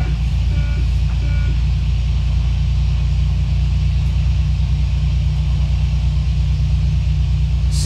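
Aircraft engine in the Prepar3D flight simulator throttling up, a loud, steady low droning rumble that holds constant throughout with no pauses, heard alone.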